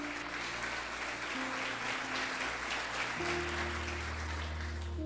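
A church congregation applauding during a Spanish-language sermon, sustained full clapping over a low held organ or keyboard chord that shifts pitch partway through, no speech.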